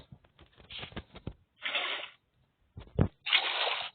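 A water bucket is emptied and refilled in Minecraft Pocket Edition: two distinct whooshing water sloshes, each under a second, separated by brief clicking and tapping sounds.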